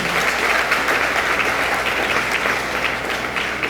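Steady, dense audience applause fills a conference hall at a 2025 talk on effective communication, loud and continuous throughout with no voices over it.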